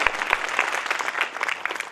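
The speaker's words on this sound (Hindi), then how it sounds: "हम दिल्ली वाली, नांगलोई वाली ताली बजा करके दीदी जी का धन्यवाद करते हैं" Audience applause at an inauguration ceremony for a Shiv Jyoti Bhawan in Nangloi, Delhi, a steady crowd clapping filling the whole span at moderate loudness.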